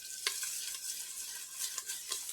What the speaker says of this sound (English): I'm going to add my garlic cloves.